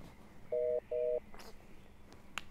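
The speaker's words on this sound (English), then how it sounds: "My phone is ringing." Two short, steady electronic phone tones sound in quick succession, fairly faint against a quiet room.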